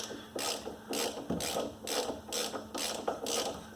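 A ratchet works loose a bolt on a Dana 30 front axle from a Jeep Cherokee XJ, giving about seven evenly spaced bursts of rapid clicking, close and fairly loud, with no talking.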